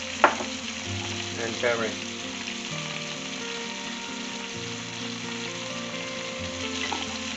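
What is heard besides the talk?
spices and garlic shallow frying in pan for maqlooba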